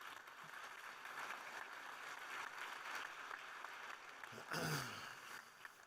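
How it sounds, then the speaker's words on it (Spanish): Faint applause from a distant conference audience patters steadily, a soft wash of clapping with a brief louder stir near the end. "Un aplauso."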